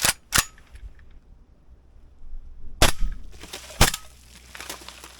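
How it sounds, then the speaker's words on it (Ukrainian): Four sharp, suppressed AK-74 rifle shots crack out irregularly, two close together and then two more after a pause, in a small reverberant, nearly enclosed space. "Зроблю декілька одиночних пострілів і потім якусь коротеньку чергу."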